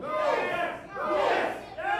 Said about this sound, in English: This crowd's so hot, I can't even hear myself.